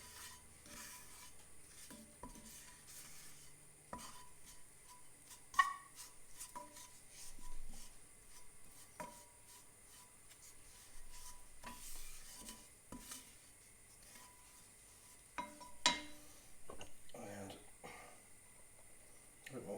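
Butter and flour being stirred into a roux in a pan, soft scraping and rubbing strokes with a faint sizzle and occasional utensil knocks, quiet and close.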